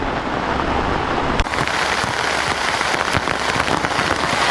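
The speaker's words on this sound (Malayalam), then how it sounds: "ഭയങ്കര മഴ കേട്ടോ മഴ കൂടിക്കൂടി വരുന്നതല്ലാതെ കുറയുന്നില്ല" Heavy rain pours steadily, a dense continuous hiss of drops hitting a surface, loud and close throughout with no voices.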